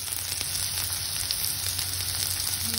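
Onion sizzles in a hot pan for lentejas, a dense steady crackle and hiss of frying that holds close and even throughout, with no talking over it.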